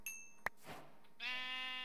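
A Minecraft sheep bleats once, a drawn-out wavering cry following a sharp click and a few soft game sounds, heard alone at low volume.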